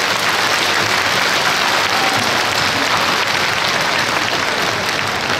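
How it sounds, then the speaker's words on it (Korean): Sustained, dense applause fills a church worship service of a family federation congregation, steady and loud throughout with no talking over it. "여러분 감사와 격려의 박수 함께 올려주시기 바랍니다"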